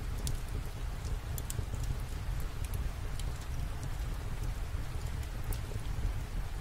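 Gentle rain falls steadily around a cozy homestead, a soft even hiss with scattered drips and low rumble, continuous and alone without voices.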